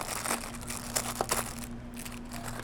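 Tissue paper crinkles and rustles in scattered bursts while a Star Wars Vintage Collection Grogu action figure is unwrapped, close and fairly soft, over a low steady background hum.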